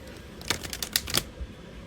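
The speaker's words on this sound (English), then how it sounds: "So I'm still shuffling these cards to see anything that needs to pop out." A zodiac card deck is shuffled in a quick burst of crisp, riffling clicks lasting under a second, fairly close and alone.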